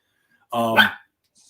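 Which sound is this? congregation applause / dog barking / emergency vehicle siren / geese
dog barking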